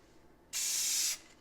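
A single short burst of spray paint hisses for about half a second as it mists onto a repaired rust patch on a Corvair, close and sharp against a quiet room.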